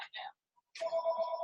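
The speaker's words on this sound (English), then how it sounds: "political surveys are ringing my phone too" A cell phone rings during a meeting with a brief electronic ringtone, a few short chirps followed by a sustained tonal ring, fairly faint and close.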